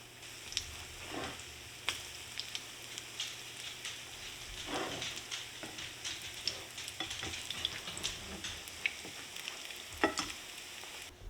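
Corn fritters dropped by the spoonful fry in oil, giving a steady close sizzle with scattered crackles and soft scraping stirs throughout, no voices.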